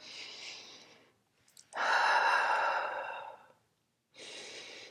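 A person exhales deeply during a gentle postpartum glute and leg workout, giving two long, close, breathy sighs separated by a brief pause, with a third breath starting at the end.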